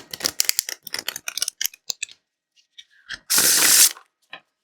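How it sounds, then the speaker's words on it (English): Rapid flurry of card clicks as a deck of thick oracle cards is riffled, then a short buzzy whirr as the cards bridge together, close and crisp. "you can actually get quite a nice riffle shuffle out of them"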